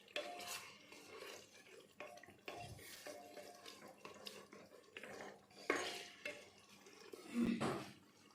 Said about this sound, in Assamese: আকৌ অকণমান সময়ৰ কাৰণে চিকেনখিনি ভাজি ল'ম